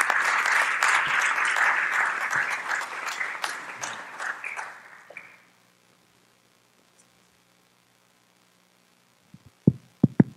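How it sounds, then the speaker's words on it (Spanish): An audience at a leadership symposium applauds to welcome a speaker, a steady burst of clapping that tapers off after about five seconds into near silence, followed by a few sharp knocks and bumps. "recibámoslo con un aplauso, por favor"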